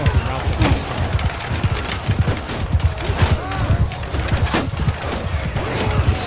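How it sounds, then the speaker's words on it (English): A Bannerlord battle rages with distant muskets firing in ragged volleys, a busy rattle of pops over a low rumble of clashing troops, as someone talks over the din. "The 7th skirmishers are also exchanging bullets."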